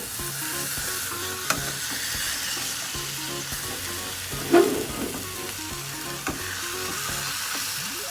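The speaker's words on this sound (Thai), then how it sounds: "เดี๋ยวเราจะกลับไข่กันเลยเนาะข้างล่างคงสุกแล้วล่ะ" An enoki mushroom omelette fries in a pan with a continuous crackling sizzle, broken midway by one sharp clatter as it is flipped, then a smaller knock afterward; no voices.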